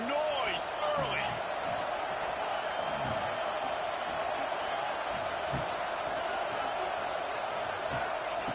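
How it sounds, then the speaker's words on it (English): Football stadium crowd producing a dense, continuous roar early in a game, steady and broad throughout, with a few whoops and thumps and voices blending into the din. "This crowd bringing the energy and noise early."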